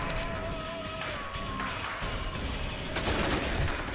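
Dense overlapping gunfire fills the co-op shooter F.E.A.R., a loud, continuous fusillade of rapid shots and impacts that swells toward the end, with a voice faintly present beneath.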